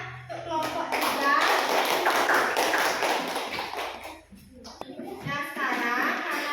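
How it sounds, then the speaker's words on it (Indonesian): A classroom of children bursts into a few seconds of loud, dense clapping for a student group, then it breaks off and kids' voices chatter afterward. "tepuk tangan untuk kelompok 3."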